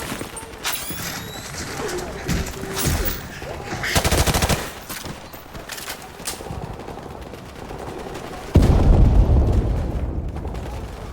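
Gunfire in the video game Call of Duty Modern Warfare Remastered, loud scattered shots and bursts with a heavy boom near the end, mixed with game sounds and brief voices.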